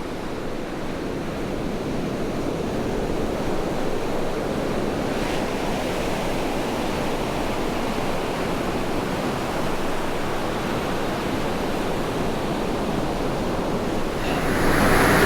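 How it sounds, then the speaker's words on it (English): Ocean waves crash onto a sandy beach in a constant, loud roar of surf with no pauses and no voices, swelling slightly near the end. "the near deafening serenity of waves crashing in front of you seems to just wash it all away"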